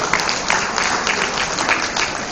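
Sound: applause for the guest of honour at a dinner

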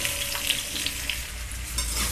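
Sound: large potato pieces frying in mustard oil in a kadhai

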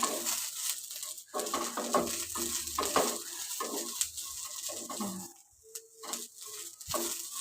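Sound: vegetable curry frying in a pan

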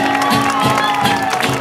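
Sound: applause for the performers in a town square

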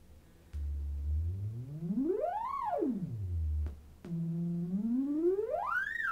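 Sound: original sine wave tone

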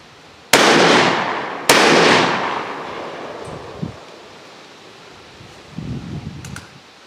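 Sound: Stoeger coach gun shotgun firing both barrels

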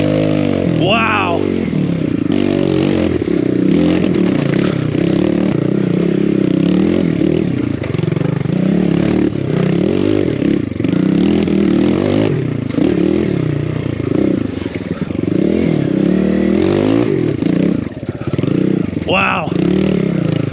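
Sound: enduro motorcycle riding a trail

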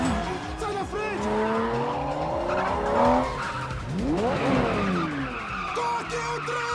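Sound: fast car skidding with tires squealing in chase

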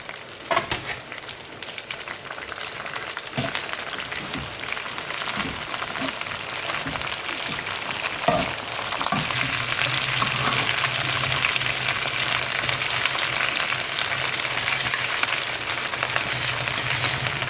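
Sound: curry leaves frying in hot oil

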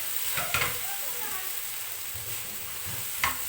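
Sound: chicken frying in a pan

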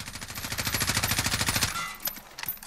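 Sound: M4 SOPMOD Block II rifle gunfire in video game Call of Duty Modern Warfare

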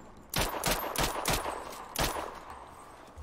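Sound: AK rifle gunfire in video game Sniper Ghost Warrior Contracts

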